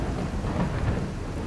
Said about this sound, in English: Looks like the storm's over anyway.